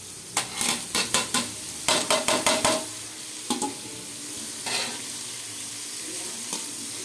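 Carrot, beans, cabbage and capsicum stir-fry in a pan for egg fried rice, with a bright sizzle under a rapid series of sharp spatula scrapes and taps, then quieter stirring with occasional knocks.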